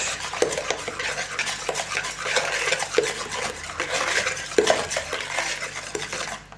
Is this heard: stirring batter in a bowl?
yes